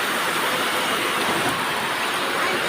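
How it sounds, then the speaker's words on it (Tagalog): Heavy rain pouring down in Western Samar, a dense, steady hiss that stays loud and unbroken throughout, with no voices or other sounds standing out. "Napaka-ulan. Grabe ulan, no?"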